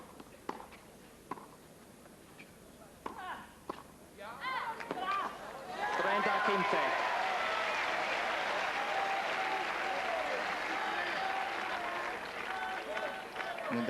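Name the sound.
tennis crowd applauding and cheering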